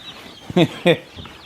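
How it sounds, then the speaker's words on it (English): Young laying hens and pullets give two short, close clucks, with faint softer calls trailing after. "So we have some more laying hens that are developing here."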